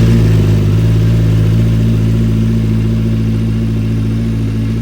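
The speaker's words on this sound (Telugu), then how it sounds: "ఇప్పుడు మన 2 బైక్స్ని అయితే స్టార్ట్ చేద్దామా? 2 సైమల్టేనియస్గా అయితే స్టార్ట్ చేద్దాం." Two motorcycles, a Kawasaki Z900 and a KTM, run together at close range, their engines giving a loud, steady mid-pitched idle with a slight rise early on, and no talk over them.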